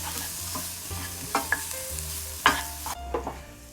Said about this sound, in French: on va faire revenir ces petites échalotes